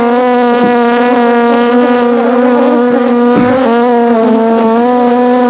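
Honey bees buzz loudly and close around a frame from a newly boxed swarm, a continuous droning hum with slight wavering as individual bees pass near.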